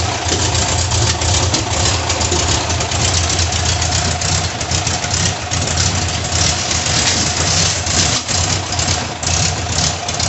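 A 1982 air-cooled VW Vanagon Westfalia engine runs and idles steadily and loudly, with a rough, rattling mechanical hum that never lets up, smoke coming off the exhaust manifold.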